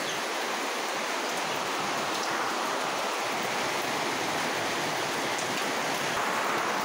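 Rain driven by wind, a steady, dense hiss of falling water that holds at an even level throughout, with no voices.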